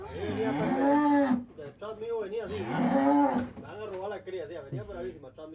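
A newborn calf moos on a farm in two drawn-out, close calls, followed by softer, shorter lowing.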